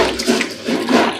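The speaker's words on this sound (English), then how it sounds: "Sorry, have to wash my hand every time." Tap water runs steadily while someone washes their hands in a kitchen during fish preparation, a brief, close, continuous splashing rush with no talk.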